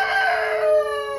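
A rooster crows nearby in a chicken pen, one loud, drawn-out harmonic call that rises and fades over about a second.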